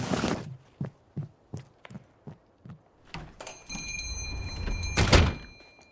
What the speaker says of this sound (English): Finally, she jerks her stuff off the table and storms out the front door.